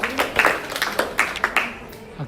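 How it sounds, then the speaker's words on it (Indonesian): A room full of people claps for a student group at a university event: a burst of scattered, uneven hand claps that quickly fades toward silence. "tepuk tangan untuk kelompoknya Dewi"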